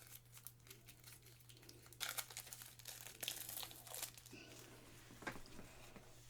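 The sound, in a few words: pack of 30 game cards being opened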